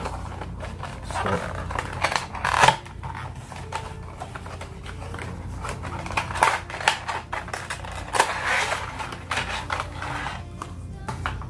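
Plastic packaging of an electric eyebrow trimmer being opened, with scattered crinkles, clicks and rustles close by, and no talking.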